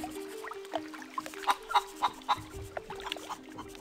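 Chicken clucking in a 1990s video game intro cutscene, a run of sharp, evenly spaced clucks rising in the middle over a low steady musical drone.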